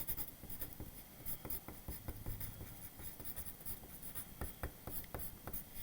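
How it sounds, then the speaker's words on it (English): A pen writes a first and last name across a large sheet of white paper, scratching in quick, uneven strokes that come close and fairly quiet, with a few sharper taps near the end and no voices. "take big white paper, write your name on it"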